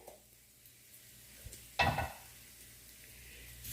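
Spices roasting in a pan for stuffed brinjal, with one brief, sharp burst of sizzling and stirring near the middle over a quiet, faint background hiss.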